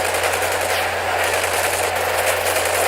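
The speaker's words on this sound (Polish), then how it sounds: "Dlaczego jest taki efekt rozmycia przy tych strzałach?" Rapid, continuous machine-gun fire in the World War II shooter Medal of Honor: Pacific Assault, a dense, loud rattle of gunshots running without pause, with a steady low hum underneath.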